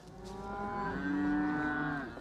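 A single cow lets out a long, drawn-out moo that rises and holds, fairly close, outdoors on a farm ahead of a winter storm, with no talking.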